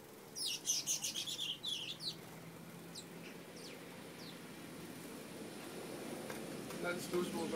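Sparrows chatter in a garden hedge, a dense burst of rapid, overlapping chirps up close, then a few scattered, fainter tweets over a steady outdoor background.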